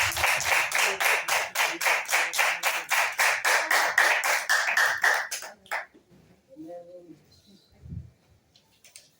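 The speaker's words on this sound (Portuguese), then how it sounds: "Bem forte as palmas para Jesus" A church congregation claps hard and loudly in a steady, rhythmic beat for about five seconds, then stops, leaving brief low murmurs and a few soft sounds.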